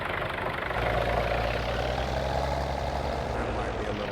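A tractor engine in Farming Simulator 22 runs with a steady low diesel drone and slight revving, continuous and fairly close, with a voice talking over it.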